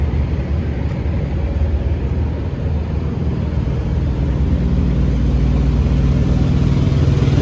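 A steady, loud engine drone runs without pause, a constant low mechanical hum with no speech, from a truck's auxiliary power unit idling close by.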